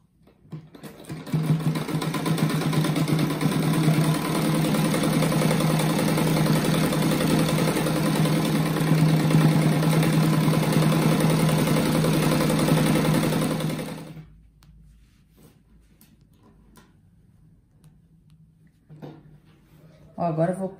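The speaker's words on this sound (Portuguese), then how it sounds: "Agora eu vou fazer essa costura aqui, daí depois eu costuro ali" A sewing machine stitching a patchwork star rug made of small squares, a loud, steady whirring run for about fourteen seconds that then stops, leaving quiet handling noises, with a voice talking.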